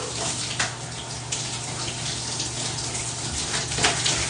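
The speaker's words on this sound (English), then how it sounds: "So this is like dunking my head under the water" Dense, steady rush of water in a cold ice bath, with a few sharper splash bursts as a head is dunked under; loud and continuous, no talking.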